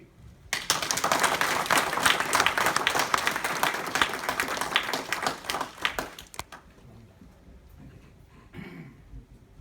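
An audience at the London Buddhist Vihara applauds after a keynote address, with dense, steady clapping for several seconds that thins out to scattered claps and then quiet.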